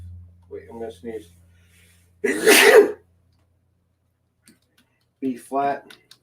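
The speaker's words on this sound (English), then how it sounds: "Wait, I'm gonna sneeze." A loud, abrupt sneeze bursts out between brief bits of quiet speech in an otherwise silent room.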